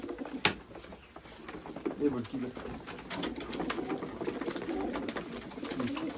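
Pigeons coo in low, repeated burbling calls close by in a coop, with someone speaking briefly over them and some rustling and a sharp knock early on.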